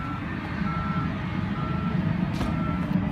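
A BMW X6 xDrive35i M Sport power tailgate closes to a steady, high warning tone repeating over a low mechanical hum, heard close and continuous throughout.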